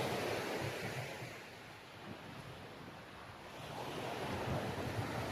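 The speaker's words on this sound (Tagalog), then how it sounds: "Medyo pansin ko yung alon, kalmado." Calm ocean waves wash onto the shore at Jomalig Island in the Philippines, a soft continuous surf rush swelling and easing with light wind noise on the microphone, no voices.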